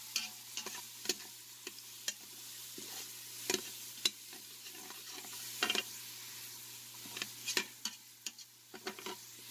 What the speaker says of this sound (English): I'm going to saute it a little bit.